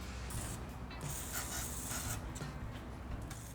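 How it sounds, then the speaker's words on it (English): Aerosol spray hissing steadily onto the exhaust bolts at the stock catalytic converter of a Honda S2000, a continuous close hiss with brief pulses over a low background rumble. "I'm spraying all the nooks and crannies of the bolts connecting to the stock cat."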